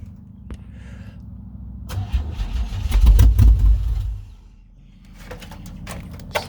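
A Chevy Sierra engine cranks with a steady starter whir, catches into a brief rough rumbling roar, then dies back down, all close and loud with no voices.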